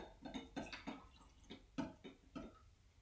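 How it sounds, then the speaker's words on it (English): Water is poured over a salted egg sitting in a container, filling it to the 200 millilitre line. Faint, close splashes and trickles come in an uneven series of soft pulses. "And then I'm going to pour this to the 200 milliliter line."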